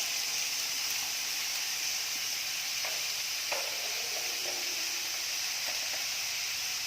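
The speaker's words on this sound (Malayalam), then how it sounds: "അതിലേക്ക് നമുക്ക് സവാള ഇട്ട് കൊടുക്കാം. നന്നായിട്ടൊന്ന് ഇളക്കി കൊടുക്കാം." Sliced onions sizzling in hot oil in a pan while being stirred, with a steady bright frying hiss throughout and occasional scraping stirs and soft clinks of the spoon.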